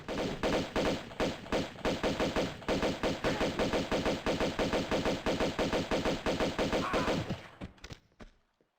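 Enemy gunfire in the video game Tomb Raider II, rapid loud bursts of repeated shots in a fast driving rhythm for several seconds before cutting off and trailing away.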